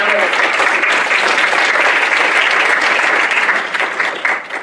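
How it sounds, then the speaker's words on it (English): Steady, full audience applause at an evening award ceremony for health champions, a dense roar of many hands clapping throughout before tapering slightly at the very end. "So if y'all would just give her a round of applause."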